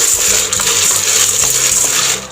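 Pulses and beans dry-roasting in a pan for Palakkad-style vishu kanji give off a steady stream of bright, close clinking and rattling as they are stirred, with no voices.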